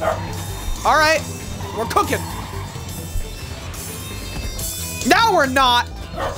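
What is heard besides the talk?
dog barking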